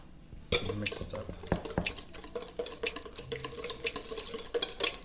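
Sugar and a pinch of salt are stirred together in a bowl with a utensil, giving rapid, continuous scraping and clinking strokes, close and fairly loud throughout, with no voice.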